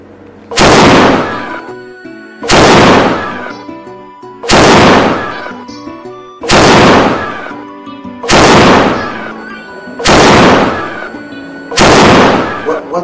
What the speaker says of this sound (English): the cannon of royal birth can only be fired 7 times when a prince is born